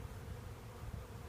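Honey bees buzzing steadily at a hive after a package installation, a continuous low drone heard close by with no talk.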